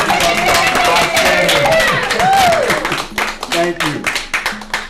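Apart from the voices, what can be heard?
audience applause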